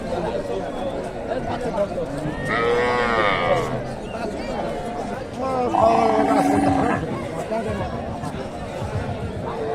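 A native dairy cow lows twice at a busy cattle market in Mahasthangarh, two drawn-out moos rising above a constant hubbub of people talking nearby.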